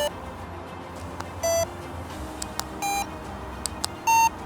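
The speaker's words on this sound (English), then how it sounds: "how the X1 beeps when switched between different modes" An X1 device gives three short electronic beeps, each at a different pitch, as it switches modes, spaced over a few seconds against a quiet background with faint clicks.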